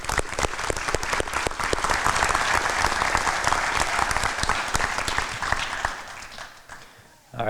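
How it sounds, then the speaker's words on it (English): An audience at a police awards ceremony applauds loudly and continuously for about seven seconds, then the clapping fades abruptly. "let's give him a round of applause again"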